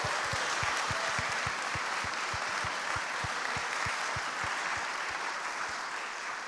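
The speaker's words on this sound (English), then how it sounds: "So a big applause for them, everyone." A crowd clapping steadily for several seconds, dense and continuous, with a few individual claps standing out up front.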